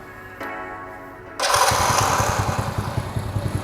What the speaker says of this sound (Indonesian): Electric start oke, knalpot suaranya juga halus.